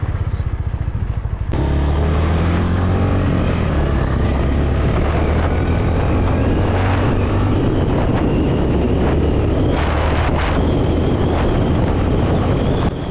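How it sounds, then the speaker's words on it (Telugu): Motorcycle with a 4-valve engine accelerating on a ride, exhaust note climbing through the gears in repeated rising sweeps, loud and close, heavily buffeted by wind noise. "ఫస్ట్ ఇంప్రెషన్ నాకు ఎగ్జాస్ట్ నోట్ అయితే చాలా బాగా నచ్చింది."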